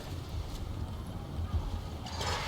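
Horses gallop in a battle in the video game Total War Warhammer III, a dense, rumbling clatter of hooves mixed with battle noise and no clear break.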